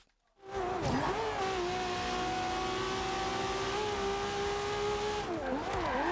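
Car engine in Forza Horizon 2 revving high and steady through a drift, a sustained loud whine with rising and falling pitch at start and end, no talking.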